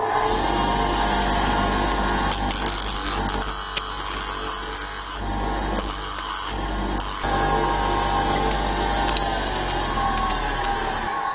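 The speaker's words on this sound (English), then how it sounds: "Let's try and tidy it up a bit on our bench grinder." A bench grinder grinds and tidies up a metal part from an XJ 900S motorcycle, a steady loud whine with a low hum running throughout, with brief dips and scraping changes as the part is pressed against the wheel.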